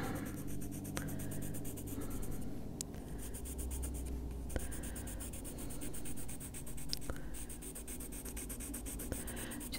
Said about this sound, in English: Just using the side of the pencil lead to get as much color down as I can without using too much pressure